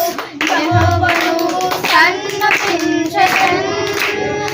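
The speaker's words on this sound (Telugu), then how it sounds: "క్లాప్స్." Rhythmic group clapping keeps time with children singing a Sunday school worship song, the claps bright and close under the voices.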